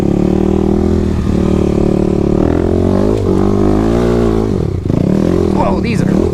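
A 2021 Kawasaki KLX300 dirt bike fitted with a Barker exhaust revs loud and close, its throaty engine note rising and falling steadily throughout with a brief dip near the end.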